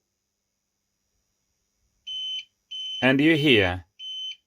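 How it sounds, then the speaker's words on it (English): A UPS backup power unit feeding a home router beeps after its power is interrupted, giving short, steady, shrill beeps with a gap between them and someone talking over the middle. "UPS or backup power start beeping, which indicates that the power was interrupted"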